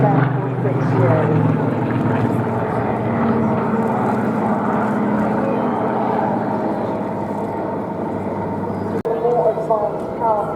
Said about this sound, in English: Now this Spitfire, sorry, this Bronco,